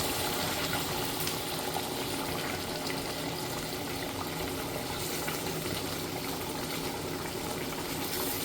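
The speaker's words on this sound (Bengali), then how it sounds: "এখন আমি গরম পানি দিয়ে দিচ্ছি।" Hot water pours into a pan of browned duck meat curry, producing a steady close rushing, bubbling wash that continues evenly throughout without pause or talk.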